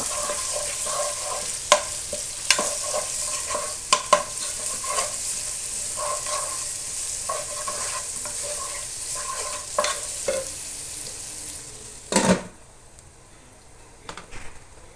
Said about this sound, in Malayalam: ഒന്ന് നല്ലോണം ഇളക്കി കൊടുക്കുക.